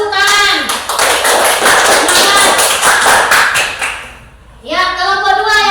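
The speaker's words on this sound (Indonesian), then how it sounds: "Ya, tepuk tangan." A class claps together, a dense run of hand claps that goes on for several seconds. It breaks off briefly, then starts again, with voices talking and cheering underneath.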